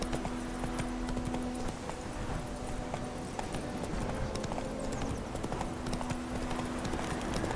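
Roach the horse gallops in The Witcher 3, hooves pounding in a fast, continuous clip-clop rhythm close by with ambient wind and game noise underneath.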